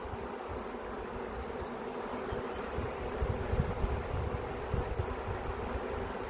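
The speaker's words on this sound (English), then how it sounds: "you can see how I got a big old bunch of bees right there" A honey bee swarm hums in a thick, steady drone of countless wings, close and unbroken, with faint rustling and handling underneath and no talking.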